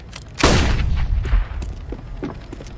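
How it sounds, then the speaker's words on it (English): A flashbang grenade goes off in a shooter video game as one loud, sharp blast with a long decaying rumble, then quieter in-game noises. "Throwing a flashbang."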